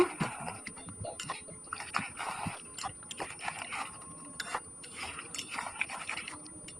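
Fried fish is tipped into a pot and stirred, making quiet, irregular scrapes, soft clinks and wet knocks of a utensil against the pot.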